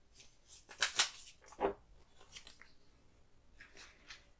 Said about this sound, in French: j'ai également coupé un morceau pour le dos